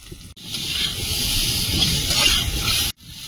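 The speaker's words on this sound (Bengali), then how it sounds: "আমটা একটুখানি তেলে লবণ হলুদ দিয়ে ভেজে নেব" Mango pieces with salt and turmeric hit hot oil in a pan and give off a loud, close, steady sizzling hiss that rises sharply, holds for a few seconds, then stops abruptly.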